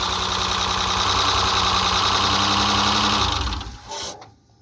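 A 2007 Mitsubishi Outlander engine, freshly given a top overhaul, runs at a steady, buzzing idle close by, then dips and cuts out near the end.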